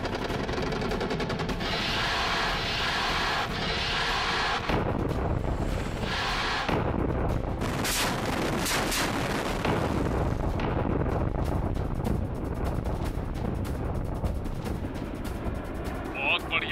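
Gunfire and explosions rumble through a dubbed action-movie battle scene where an aircraft opens fire on a target, a loud continuous barrage with heavy low booms, mixed under dialogue.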